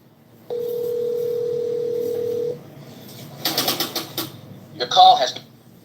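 A telephone dial tone sounds for about two seconds, a steady close hum that cuts off, followed by clicking key sounds and a short burst of tones.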